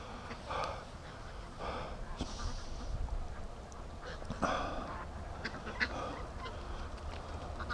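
Muscovy ducks and geese on a free-range farm call in scattered honks and quacks throughout, fairly close, with a steady outdoor background.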